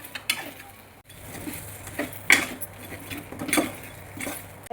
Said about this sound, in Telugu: వేయించిన చేపల ఫ్రై దీన్ని ఇప్పుడు ఇందులో మిక్స్ చేసుకోవాలి